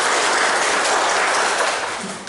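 Classroom applause during a microteaching lesson: dense, steady clapping from a group of students, loud and close, holding even throughout before tapering slightly at the end.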